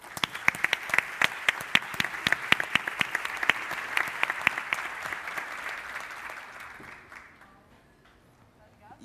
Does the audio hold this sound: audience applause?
yes